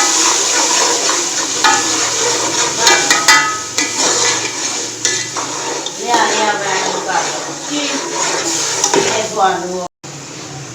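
Onions browned in a pan sizzle and fry as garlic-ginger paste is added and stirred in, with scraping and clattering of a utensil against the pot, steady and close, while a person talks over the cooking.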